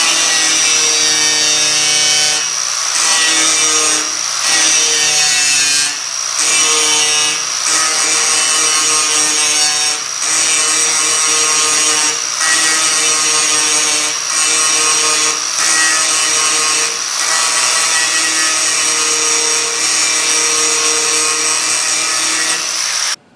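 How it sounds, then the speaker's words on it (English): Makita angle grinder cutting off a trim stud on a junkyard Cadillac, a loud continuous high-pitched whine with brief dips in pitch as the disc bites, running steadily for over twenty seconds without speech. "So the stud's right here. Let's see what that grinder will do for us."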